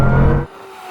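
A loud, close engine roar from a car under hard acceleration in a drag race involving a Bugatti Chiron and tuned BMW M5 and M4, cutting off abruptly midway and leaving a quieter low hum.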